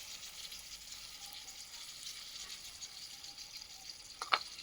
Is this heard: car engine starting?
no